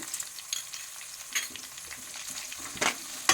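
Tomato fries with cumin in a pan, a soft steady sizzle broken by occasional stirring scrapes and spatters, alone without talk.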